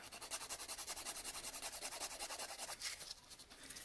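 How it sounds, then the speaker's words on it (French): A nail file works the sides and free edge of a fingernail in quick, steady rasping strokes, close and faint, with no talking. "je vais commencer par me limer les côtés et le bord libre."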